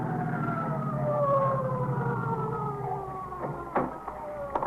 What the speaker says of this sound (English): That's either ESD or the ambulance coming now.